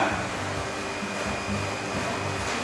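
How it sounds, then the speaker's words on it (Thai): An industrial washing machine used for dry cleaning, its drum turning left and right while water fills, gives a steady close motor whir with a faint hum and soft periodic low churning. "คุณสมบัติของเครื่องซักอุตสาหกรรมเนี่ย ก็จะหมุนซ้ายหมุนขวานะครับ"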